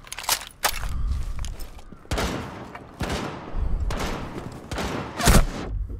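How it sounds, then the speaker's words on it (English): Rapid bursts of gunfire from a teammate in the Rainbow Six Siege video game, several loud close volleys separated by short gaps, with one sharp crack standing out near the end. "Our teammate's fucking shooting me."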